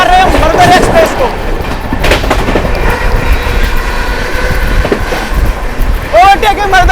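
Shiv Ganga Express overtaking the Marudhar Express at a junction between Banaras and New Delhi, with steady loud rumble and rattling of passing coaches throughout and two sharp rising horn-like whistles near the start and end.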